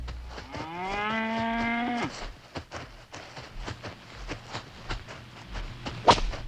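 A cow lets out one long, loud moo that rises and then cuts off, followed by scattered thumps and shuffling hooves nearby.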